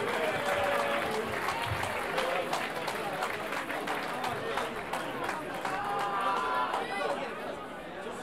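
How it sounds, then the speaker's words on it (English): An arena audience applauds two boxers after their bout, with sustained clapping mixed with crowd chatter and a voice speaking over it, filling the space at a fairly even level. "Give them another brilliant round of applause, if you would."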